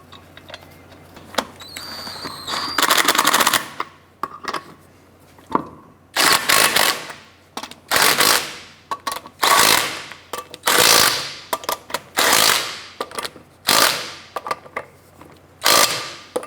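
Torque wrench tightening the wheel lug nuts on a 2006-2013 Chevrolet Impala, giving about ten loud, sharp ratcheting bursts in an irregular rhythm, each a quick run of clicks, close up with no talking.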